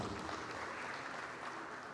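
Steady applause from an audience fills a hall at a state closeout ceremony in Ebonyi State, Nigeria, a dense, continuous clatter of many hands clapping at moderate volume with no voices over it.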